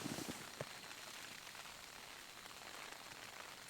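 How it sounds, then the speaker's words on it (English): Steady rain patters on a Hilleberg Nammatj 2 tent during mountain solo camping, a dense even hiss filling the clip with a few louder drops early on and no talk. "Rain."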